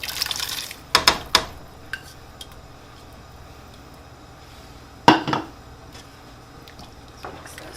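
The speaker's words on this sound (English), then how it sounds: "I need to add in our bay leaves and our potatoes" Bay leaves and potatoes go into a pot of crab and grilled corn chowder with a few sharp clunks and splashes, a cluster early and another later, against quiet background.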